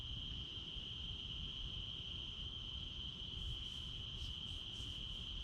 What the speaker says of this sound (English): Might just be crickets.